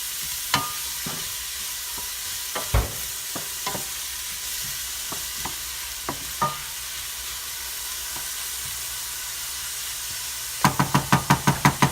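Ingredients for rice dressing stirred and fried quickly in hot oil over high heat, a steady sizzle broken by sharp scrapes and knocks of a utensil against the pan, ending in a quick run of rapid clacks.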